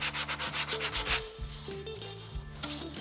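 A car body panel is sanded by hand with an 80 grit sanding block in steady, rhythmic back-and-forth strokes. The rasping scrape is close and continuous, with no voices.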